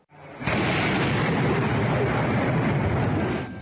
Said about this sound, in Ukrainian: І звуки гучних вибухів замість будильників.